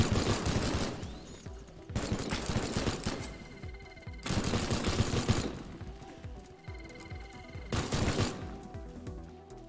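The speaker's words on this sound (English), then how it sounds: "Oh, this one's a machine gun guy." Long bursts of enemy machine gun fire in the video game Teardown rattle loudly in four heavy volleys, separated by brief gaps with faint ringing debris in between.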